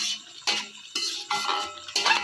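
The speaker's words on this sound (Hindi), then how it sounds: "काली मिर्च शामिल करने के बाद हम इसको अच्छी तरह मिक्स कर देंगे।" Black pepper being stirred into a pan of Peshawari chicken charsi karahi, with a metal spoon scraping and clinking against the pan in about four distinct bursts, close and moderately loud.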